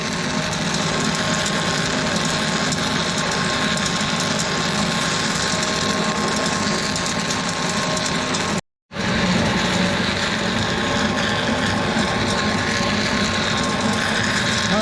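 A grain extruder processing soybeans makes a continuous loud mechanical drone with a buzzing, rattling texture that runs almost unbroken, with one brief dropout.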